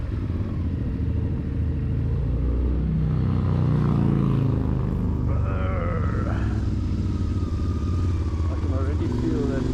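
A CFMOTO 450 MT adventure motorcycle on a test ride, its engine a steady, close rumble mixed with wind roar that swells slightly midway, with a few rising revs toward the end.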